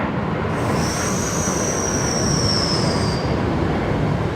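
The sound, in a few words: train passing below, wheels squealing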